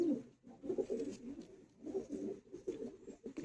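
Several Madrasi pigeons coo in a low, throaty stream, with soft, rolling calls rising and falling repeatedly at close range and no talk over them.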